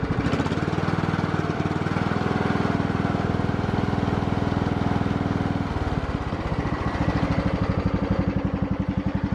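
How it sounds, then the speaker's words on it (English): A riding lawn mower engine running at low idle after about twenty minutes of running, giving a steady, rough, rapid low putter that carries on unbroken with a slight shift in tone partway through, with no talk over it. "Oh, we're already on the low idle."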